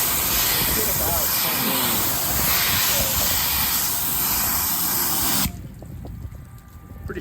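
Water sprays in a loud, steady hiss onto a car windshield treated with Rain-X, running for about five seconds and then cutting off abruptly, leaving quiet drips and faint movement.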